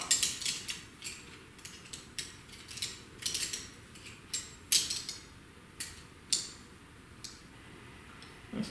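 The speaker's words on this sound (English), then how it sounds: "just crank down the screws in this holding block" Screws on the holding block of a double flare brake tool are cranked down by hand, giving a steady run of close, crisp metallic ticks and clicks in an irregular ratcheting rhythm, with no talking.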